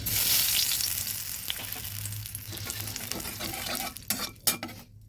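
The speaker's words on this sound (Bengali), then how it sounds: "এবার দিয়ে দিচ্ছি একটুখানি চিনি" Sugar is dropped into hot oil in a kadai and stirred, giving a steady crackling sizzle with scraping spoon strokes and a few sharper clinks near the end, with no talking.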